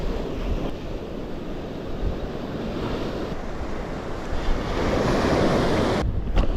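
Ocean surf breaking on a beach on the south coast, a loud continuous wash of waves with wind buffeting the microphone, building slightly toward the end.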